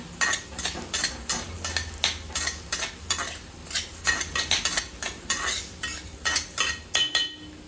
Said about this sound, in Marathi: थोडे थोडे करून मी धने भाजून घेते